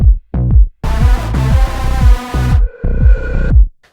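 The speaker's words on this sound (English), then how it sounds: "This is like a small instrumental electronic break." Short electronic instrumental break from a dark pop metal song, with punchy pulsing bass hits, a dense swelling synth wash in the middle and a sustained tonal lead near the end, loud and busy with no voices.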